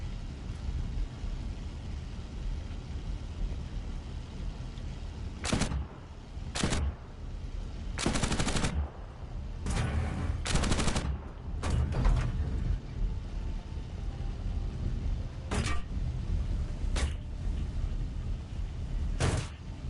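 Aircraft machine guns firing in the War Thunder simulator, five guns on one plane, heard as short loud bursts spaced irregularly over steady engine drone.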